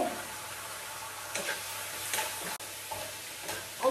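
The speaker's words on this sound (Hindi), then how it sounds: "आप आवाज सुन रहे हो शड़शड़ वाली" Food frying in a pan for a home-cooked recipe, a steady close sizzle with several soft stirring scrapes and brief bursts, no talking.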